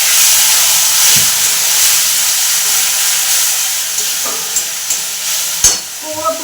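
Water poured onto spices frying in a hot pan, giving a loud continuous hissing sizzle that slowly settles, with a few light clinks of a spoon against the pan near the end.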